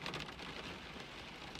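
Steady, hissing rainfall in an audio drama set among moving trees at night, a dense wash of drops that runs unbroken and alone with no voices.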